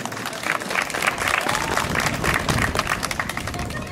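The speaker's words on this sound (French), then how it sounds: "Applaudissez là si vous voulez bien" Audience applause and clapping from the crowd at the Miss Alsace 2013 beauty pageant, sustained and dense for several seconds with faint voices mixed in.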